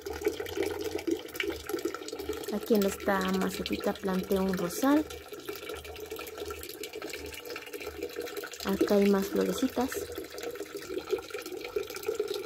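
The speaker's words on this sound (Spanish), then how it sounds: "el ruido de agua que escuchan aquí es porque tengo una pequeña fuentecita que un día yo realicé" A small homemade garden fountain trickles steadily in the background while someone talks in Spanish over it, the running water continuous and soft throughout.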